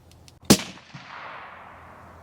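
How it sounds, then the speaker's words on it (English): A single loud gunshot cracks out at an outdoor shooting range, fired over a chronograph at 15 feet, with a sharp report and a long decaying echo rolling afterward. "we're going to fire 3 rounds over a chronograph at 15 feet for muzzle velocity"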